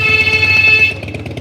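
A motorbike sounds a steady, loud horn at a car on a street in Amsterdam's Jordaan district, holding for about a second over traffic rumble before cutting off.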